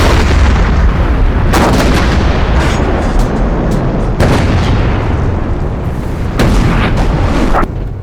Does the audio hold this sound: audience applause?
no